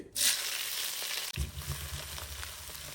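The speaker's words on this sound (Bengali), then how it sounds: "তেলটা গরম হয়ে গেলে দিচ্ছি আমি এক কাপ পেঁয়াজ কুচি" Chopped onion hitting hot oil, a half-and-half mix of soybean and mustard oil, bursts into a loud sizzle partway in. After that a steady crackling fry carries on close by with no talk.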